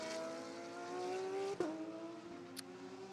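A Porsche GT race car pulls out of the pit lane at Kyalami during pre-qualifying for the 9-hour endurance race. Its engine holds a steady, loud note, then shifts with a sharp change of pitch partway through before pulling away.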